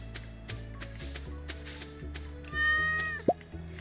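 A cat meows once in the farming video game Stardew Valley, a short rising call heard over the game's steady background music.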